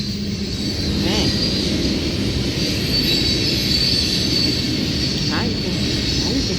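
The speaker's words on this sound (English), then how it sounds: "I can hear the flanges now" A passing train rumbles loudly nearby, with brief high-pitched squeals from the wheel flanges on a curve cutting through twice over the steady rolling noise.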